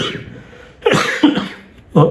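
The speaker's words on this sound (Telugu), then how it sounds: "ఇలా కాఫ్ వస్తుంది అప్పుడప్పుడు 5 నిమిషాలకు ఒకసారి అట్లా" A person recovering from a viral infection coughs close to the microphone, with several harsh, short bursts and a pause between them.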